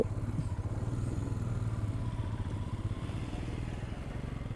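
A motorcycle engine runs steadily at a low, even drone on a narrow mountain road in Ladakh, heard alone and at a constant level without revving.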